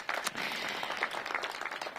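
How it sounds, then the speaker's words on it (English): Steady audience applause at a mayoral anniversary celebration for The Brooks short-term family housing, a dense wash of many hands clapping at even loudness throughout, with no break and no voices standing out. "So give them a round of applause."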